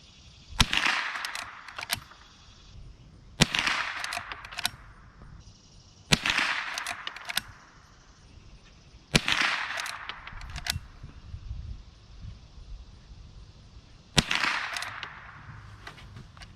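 A Henry Golden Boy .22 lever-action rifle fires Winchester 36 grain rounds at an outdoor range, five sharp cracks spaced a few seconds apart, each followed by a short fading echo.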